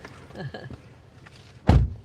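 A car door slams shut once, loud and close, outdoors at a sunset viewing spot, after a stretch of faint background noise and soft shuffling.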